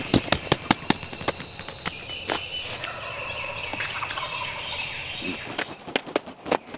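Wild turkey gobbling in Mississippi hardwoods during a spring hunt, a loud rattling gobble repeated amid sharp clicks and a steady wash of background birdsong.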